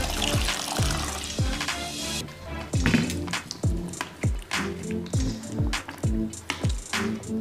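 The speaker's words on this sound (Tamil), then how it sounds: "இப்போ வந்து இதை தண்ணி ஊற்றி இதில் அலசிக்கலாம்." Water pours and splashes over vegetables being rinsed in a kitchen vegetable strainer, a steady close trickle broken by repeated sloshing knocks and squishes as the produce shifts.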